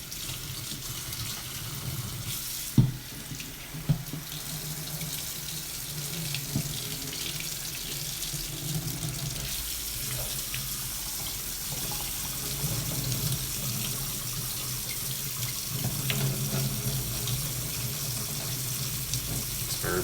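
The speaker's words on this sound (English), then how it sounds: "Just run some water through this fucker." Water runs steadily from a sink tap in a continuous, fairly loud hiss and splash, with a couple of brief clanks early on and no talking.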